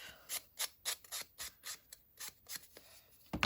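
A blade slices through paper in a row of about ten crisp, evenly spaced cuts, close and quiet, followed by a louder rustle at the end.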